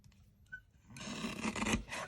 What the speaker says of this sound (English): I have a small guillotine cutter that I keep on my desk.